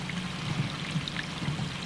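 Water pours steadily out of a gopher hole in a creek bank and runs into the creek, a soft, continuous trickle and splash that stays faint and even throughout.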